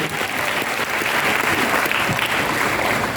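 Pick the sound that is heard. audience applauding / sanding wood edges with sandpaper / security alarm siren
audience applauding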